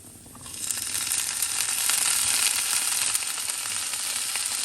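Soaked sago dropped into cooking vegetables in a pan for sabudana khichdi, bringing a sudden rise into loud, steady sizzling and frying that holds close and even to the end.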